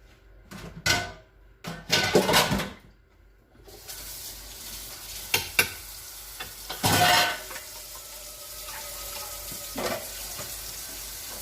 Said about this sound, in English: I'm just cleaning the pan of the sauce. I don't want to add too much water, just a little bit.